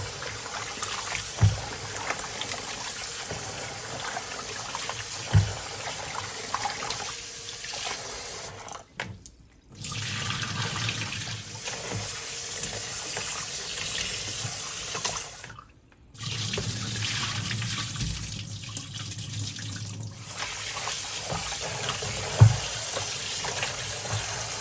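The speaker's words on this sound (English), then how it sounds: "Okay, I'm gonna complete the washing of my meat." Tap water runs steadily into a sink while raw lamb meat is washed by hand, a continuous close splashing stream broken by two brief pauses and occasional knocks and thuds, with no talking.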